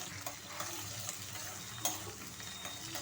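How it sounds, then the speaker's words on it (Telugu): Peanuts, cashews, green chillies and curry leaves fry in a pan with a steady, close sizzle, broken by a few soft stirring scrapes and clinks along the way. "అన్ని దోరగా వేయించేసుకోవాలండి"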